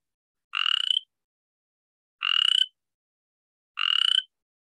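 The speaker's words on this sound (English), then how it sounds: "the boreal chorus frog is the first reminder that winter is gone and spring is right around the corner" A boreal chorus frog calls three times, each a short, loud, rising trill heard close and clear against silence, spaced about two seconds apart.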